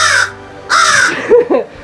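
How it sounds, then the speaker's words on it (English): A crow, a social bird raised from a nestling, gives two loud, close caws followed by a couple of shorter, lower guttural calls, with no other sound around them. "Again, like turkey vultures, crows are extremely, extremely social."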